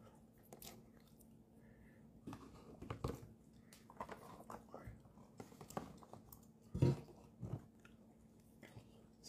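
Close, quiet chewing of chicken rice with soft crunches and wet mouth sounds, irregular and ongoing over a hushed background.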